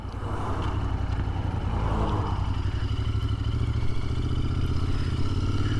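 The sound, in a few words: Royal Enfield Continental GT 650 motorcycle parking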